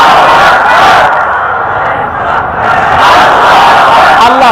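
A large crowd at an outdoor Bangla Islamic sermon gathering shouts Allahu Akbar in unison in reply to a takbir call, loud roaring voices rising in two long swells.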